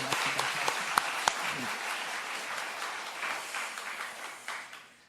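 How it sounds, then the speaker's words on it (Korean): Church congregation applauding during a Sunday afternoon remodeling thanksgiving service, a few sharp claps at first swelling into a steady round of applause that tapers off at the end. "우리 모두가 하나님께 영광의 박수 돌리고"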